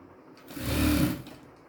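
A sewing machine stitches blouse fabric for a square katori blouse in one steady burst of motor whir that swells and fades, close and fairly loud, with no talking.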